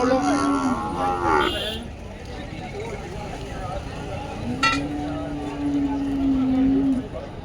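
A tall buffalo, in milk from its third calving, moos at the Dhanaula livestock market, giving one long, steady low call over market noise and clinks while people talk.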